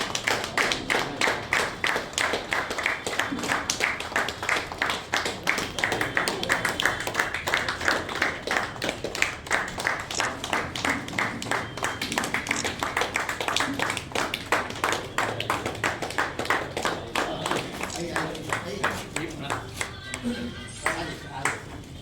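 An audience claps in a fast, steady rhythm of sharp, distinct hand claps that keep going for a long stretch before thinning near the end, with voices mixed in.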